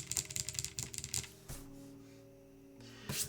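A LinWorks Whale 75 mechanical keyboard gives a burst of rapid, clacky keystrokes, followed by a pause and a final couple of clicks, up close over a faint hum.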